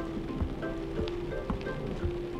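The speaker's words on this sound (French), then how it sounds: "Théo, Didi, regardez, il pleut vraiment." Rain falls steadily in a continuous patter, with scattered drops tapping nearby against a low, even hiss.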